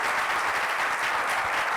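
An audience at an evening talk claps steadily, a dense, even wash of applause that runs without a break for the short stretch, fairly close and with no voices over it.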